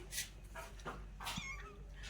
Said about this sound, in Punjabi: ਇੱਥੇ ਬੈਠੇ ਆ ਬਲੂੰਗੜੇ ਕਿੰਨੇ ਸੋਹਣੇ ਨਿੱਕੇ ਨਿੱਕੇ